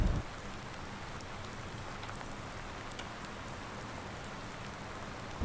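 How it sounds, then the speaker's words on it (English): Rain falls outside on a thundery day, a steady even hiss of drops that stays constant throughout, moderately quiet with no voices. "Becoming very thundery and rainy out there."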